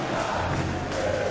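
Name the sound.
crowd cheering at a Counter-Strike esports match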